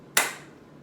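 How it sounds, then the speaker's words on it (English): One sharp, close hand clap made while a bean bag is tossed up during a home PE activity, a single crisp crack that decays quickly into quiet. "I'm going to throw it up, I'm going to clap one time, and then I'm going to catch it."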